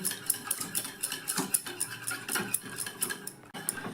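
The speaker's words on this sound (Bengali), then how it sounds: "খুব ভালো করে চিনি, লবণ ডিমের সঙ্গে মিশিয়ে নিতে হবে।" Utensil clinks steadily against a bowl while eggs are whisked together with sugar and salt, a quick repeating scrape-and-tap rhythm heard close up with no voices.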